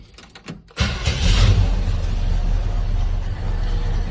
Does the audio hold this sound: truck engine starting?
yes